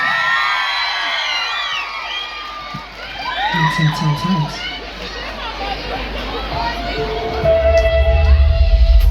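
A crowd cheers and claps loudly with whoops and shouts, the noise swelling toward the end under a steady roar.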